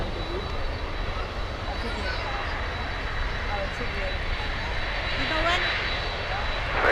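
A jet airliner inbound from Anchorage arriving at Miami International Airport during stormy weather, a steady broad roar that swells slightly toward the end, with voices faintly underneath.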